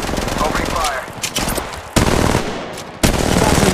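Rapid automatic gunfire in Apex Legends Mobile, loud bursts of machine-gun fire broken by brief pauses, with a game character's voice lines heard under the shots.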